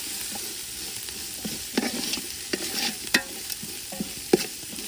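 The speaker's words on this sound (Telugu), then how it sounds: "వీటన్నిటిని పచ్చివాసన పోయేంత వరకు బాగా వేయించుకోవాలి" Spices fry and sizzle in a pan for chicken gravy, with a steady hiss and intermittent scrapes and clinks as a spoon stirs them, close and alone without talk.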